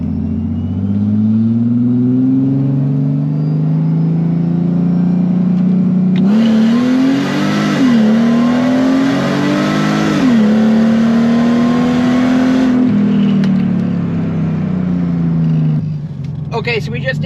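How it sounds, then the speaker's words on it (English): Mercedes SLK32 AMG with a NAG1 automatic gearbox pulling hard from first into second gear, loud steady engine drone rising in pitch with a clear dip at each upshift, the roar swelling mid-pull and easing off at the end, a voice talking over it. "We're just going to do a couple, first gear pull, so you'll see going to first and second, a 20-mile-an-hour hit."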